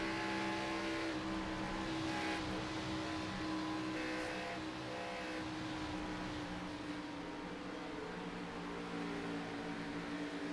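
Race cars roar around a track during a race, a steady, far-off blend of engine drone with faint passing swells and no voices.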